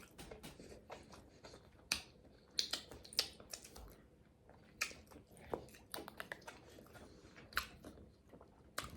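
Crunchy chewing and biting of salmon and asparagus, with irregular sharp crisp bites scattered through the stretch, close to the mic and fairly loud against a quiet background.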